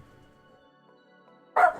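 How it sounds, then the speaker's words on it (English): A dog gives a single loud, sharp bark near the end, after a near-silent room with a faint hum. "My dogs keep barking."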